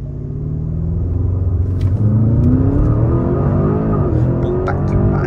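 A Porsche 911 Carrera 992 launches hard, its engine rumbling loudly and climbing steadily in pitch through the gears, heard from inside the car.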